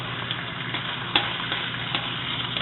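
Bacon sizzles and crackles steadily in a wok, a close hiss with small pops and one sharper spatter, no one speaking.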